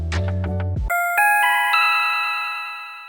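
A bright synth patch called Brightness from the Fruity LSD plugin plays chiming, bell-like sustained tones. A brief low, thick chord comes first, then clean shimmering notes that ring out and slowly fade.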